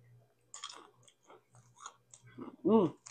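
Close-up wet chewing and crunching of crispy fried chicken skin, a few bites in sequence, then a short voiced sound near the end.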